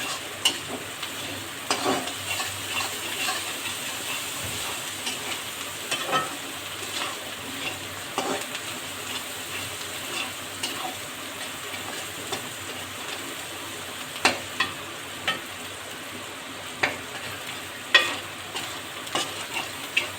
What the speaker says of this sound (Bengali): সুন্দর করে ভাজতে হবে।